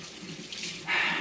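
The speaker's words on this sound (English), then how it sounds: "I'm washing my hands because I don't want to touch the stand with turkey jelly on my hands" Tap water runs over hands at a kitchen sink, starting as a soft trickle and swelling into a steady, louder splashing stream.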